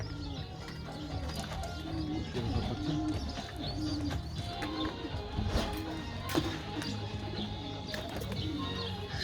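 Pet pigeons coo repeatedly in soft, rhythmic bursts, a steady chorus of low throaty calls close by with occasional chirps and rustling among them.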